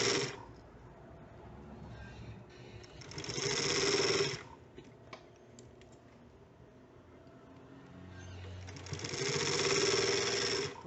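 A sewing machine stitching a bra cup top runs in slow bursts: one short whir at the start, a longer run around four seconds and another near the end, with quiet handling between them.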